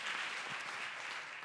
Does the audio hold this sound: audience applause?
yes